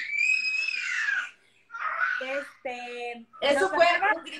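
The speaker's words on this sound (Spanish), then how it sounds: "Eso fue un grito de gozo." A young child's joyful scream rises and drops in bright bursts, followed by short squealing voiced cries and babble close to the microphone, loud with brief gaps between.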